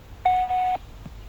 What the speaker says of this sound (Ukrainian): Будь ласка, залиште повідомлення після сигналу.